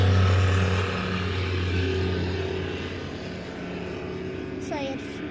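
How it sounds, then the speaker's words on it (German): A propeller airplane drones overhead, loud at first and slowly fading as it passes, with people talking quietly beneath it. "Da ist noch ein Flugzeug"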